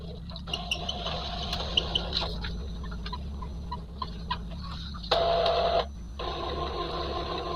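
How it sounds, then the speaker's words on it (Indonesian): An Epson L3210 inkjet printer runs a nozzle test, whirring and clicking as its mechanism moves, with a louder mechanical burst partway through before the steady hum of the room returns. "printer sudah berjalan kembali"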